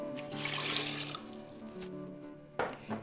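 Coconut water pours from a measuring cup into a blender holding frozen strawberries and mango for a smoothie, a steady close splashing trickle for about two and a half seconds before a brief clatter at the end.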